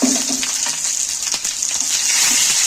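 Eggplant wrapped in banana leaf hisses and sizzles loudly as it is laid into a pan of hot oil, a steady bright frying roar with a few sharp crackles throughout.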